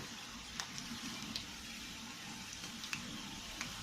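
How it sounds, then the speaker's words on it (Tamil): Medu pakoda fries steadily in hot oil, giving a soft, continuous bubbling sizzle with occasional small pops and crackles, heard alone at a moderate distance. "இப்படி ஃப்ரை பண்ணி விட்டுட்டே இருந்தீங்கன்னா அது எல்லா சைடும் ஈவனாக ஃப்ரை ஆகும்"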